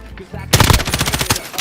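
Rapid automatic gunfire from a first-person shooter video game bursts in after a quieter half second, a loud close stream of rattling shots continuing to the end.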